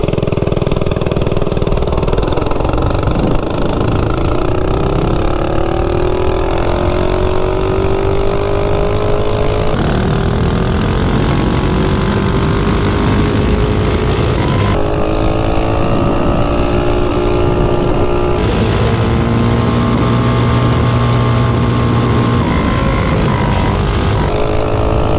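A Baja Warrior minibike engine, modified for speed, drones loudly and steadily throughout, its pitch climbing and sweeping as it accelerates, with wind rush over the mic and several abrupt cuts.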